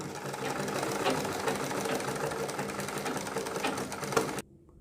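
A sewing machine stitches a kurti neckline at a steady, fast mechanical rhythm, loud and close, running continuously for about four and a half seconds before stopping abruptly.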